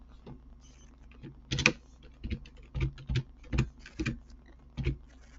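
Keystrokes on a computer keyboard while entering text into an Excel spreadsheet, a light close tapping in short irregular bursts with brief pauses between.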